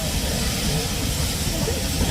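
A steam train on the Severn Valley Railway, heard as a steady broad hiss of steam with a faint rumbling undertone, continuous and close throughout the short stretch.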